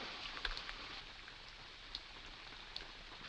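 Steady rain falls outdoors as a soft, even hiss with a few scattered drips standing out, faint and distant with no voices.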